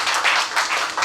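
A church congregation clapping in praise of the Lord, a brief burst of dense, bright applause from many hands in a hall.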